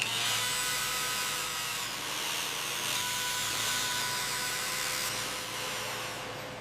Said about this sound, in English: Keep the sander moving slowly.